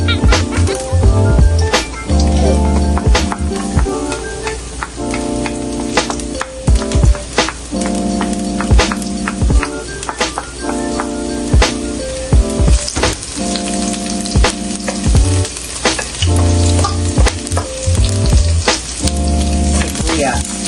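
Garlic fries in hot oil in a pan for fried rice, giving a continuous close sizzle with scattered clicks and scrapes of a ladle throughout.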